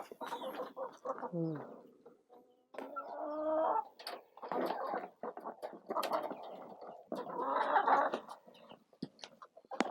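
Several village chickens cluck and squawk in short bursts, fairly close, with brief pauses between calls, as they are about to be shut in for the night.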